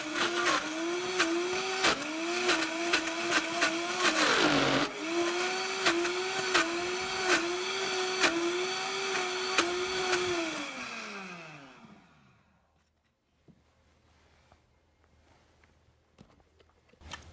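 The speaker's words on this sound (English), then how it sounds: "select the frozen desserts program and hit start. Allow the machine to run and make sure to use the tamper to push the ingredients down" A Vitamix Professional Series 750 blender churns frozen fruit on its frozen desserts program, a loud, steady motor whine with rhythmic tamper bumps that winds down and stops near the end, leaving quiet.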